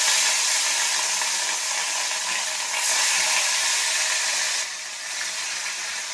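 Katla fish pieces frying in very hot oil in a kadai, a steady bright sizzle that swells briefly and then settles slightly quieter.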